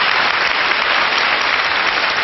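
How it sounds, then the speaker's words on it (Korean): Studio audience at a Korean lecture show bursts into dense, loud applause, a continuous even wash of clapping with no talk over it. "다시 한번 박수 부탁드리겠습니다."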